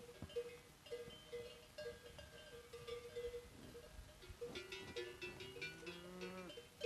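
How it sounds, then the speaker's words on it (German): Bells hung on grazing horses and cattle in the Pyrenees clank and jingle irregularly at close to moderate range, with overlapping metallic tones and occasional lowing in the background. "Pferde mit Glocke."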